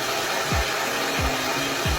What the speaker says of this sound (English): We're going to rough dry with the blow dryer just until the hair is still slightly damp